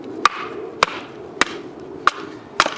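A Tops DART chopper knife is hammered through a thick piece of wood, about 3.5 inches, in five sharp, evenly spaced thwacks, each loud and close, with quiet gaps between strikes.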